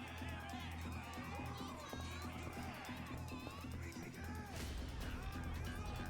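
A bustling crowd in the video game Yakuza: Like a Dragon fills the scene with a dense wash of babble and movement, mixed with game sounds and spoken lines.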